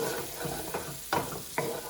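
Garlic frying in a pan for escarole bean soup, stirred in a few quick scrapes over a steady close sizzle.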